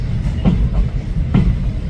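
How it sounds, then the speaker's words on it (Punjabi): A train departing Dablan station in Punjab rolls along with a low steady rumble and two distinct clacks of wheels over rail joints, close and fairly loud, no voices. "ਦਬਲਾਂ ਸਟੇਸ਼ਨ ਤੋਂ ਇਹ ਟ੍ਰੇਨ ਚੱਲ ਪਈ ਆ"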